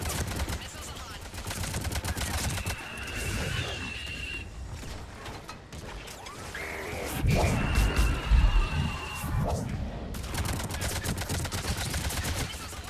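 Missiles firing in the Mass Effect 3 video game, rapid loud bursts of launches and blasts in repeated volleys with a heavy boom midway, a voice speaking briefly between them.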